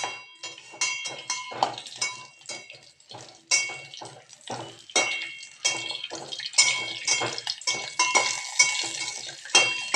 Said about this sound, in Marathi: तुपामध्ये आपण काजू बारीक केलेला आणि बदाम हे भाजून घेऊया